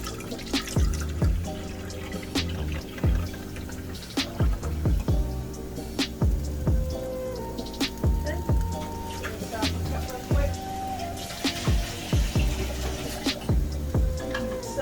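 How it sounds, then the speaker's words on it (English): Milk pours into a cooking pot, a liter at a time, giving a continuous liquid splashing with dripping, clinking accents throughout, set against soft background music. "1 whole liter going in the pot."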